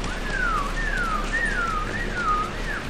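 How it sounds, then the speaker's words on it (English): A person whistles a repeating falling tune, four or five short descending phrases in steady rhythm, clear and close over a faint background hiss during gameplay. "I'm whistling too much, chat."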